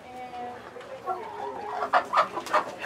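Hens clucking in a coop, a run of soft calls followed by several louder, sharper clucks near the end.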